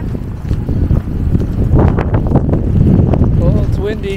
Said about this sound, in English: Oh, it's windy and it's raining.